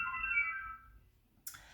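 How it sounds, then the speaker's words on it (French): A telephone rings from the far end of a house, a faint tonal ringing heard from a distance that stops after about a second, followed by a short rustle. "Excusez-moi pour le téléphone, mais bon, il est au bout de la maison."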